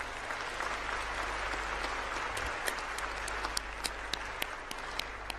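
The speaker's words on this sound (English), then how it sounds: "let's give everyone who pitched a huge round of applause" Large crowd applauding the pitching semifinalists at the closing plenary of the Global Entrepreneurship Summit 2017, a steady, dense wash of clapping with a few sharp individual claps standing out near the end.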